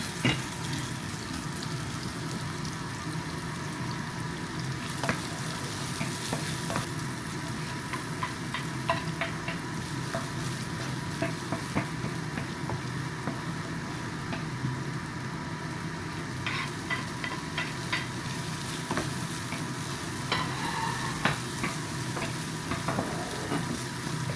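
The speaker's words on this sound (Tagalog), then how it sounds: "So, mainit na yung pan. saute muna natin itong mga aromatics." Onions and other aromatics sauté in a hot pan for arroz a la cubana, a steady close sizzle broken by scattered clinks and scrapes of stirring, with no talking.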